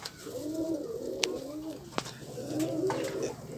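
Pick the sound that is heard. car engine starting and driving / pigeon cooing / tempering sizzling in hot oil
pigeon cooing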